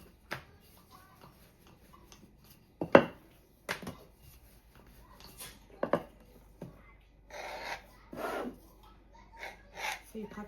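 Knife cutting mahamri dough into quarters on a board, a handful of sharp irregular chops and scrapes close by, with soft rubbing between cuts.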